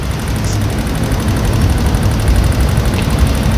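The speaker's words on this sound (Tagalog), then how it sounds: "Yung makina niya dahil maingay yung motor niya." A loud, noisy Yamaha Mio i 125 scooter engine idles close by, a continuous low rumble with a faint high whine and no pauses.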